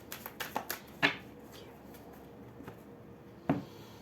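Tarot cards shuffled for a reading, a quick series of light close riffling flicks at the start, then a quiet gap and one more soft card slap near the end.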